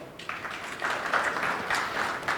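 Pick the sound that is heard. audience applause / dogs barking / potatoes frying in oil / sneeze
audience applause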